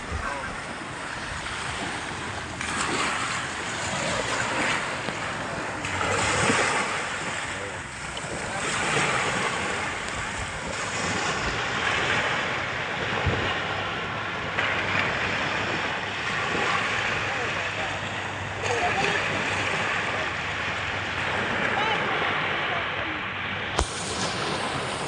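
Sea waves wash near a broken pier at a resort in Cavite, a continuous broad rush with gentle swells, heavily mixed with wind buffeting the microphone.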